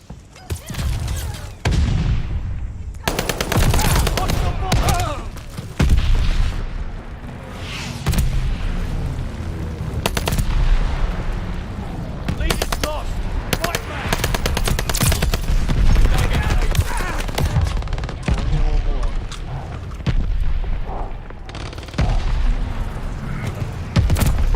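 Rapid bursts of gunfire and booming explosions from a Call of Duty MW2 match, loud and dense, coming in repeated volleys with short gaps, some voices mixed in.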